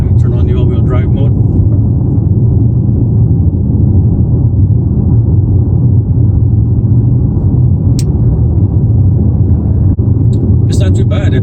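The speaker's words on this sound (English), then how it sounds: "here we go, side gravelly road." Inside a 2020 Chevy Equinox rolling along a gravel road in all-wheel drive mode, a loud, constant low road rumble fills the cabin. A few brief sharp noises come near the end.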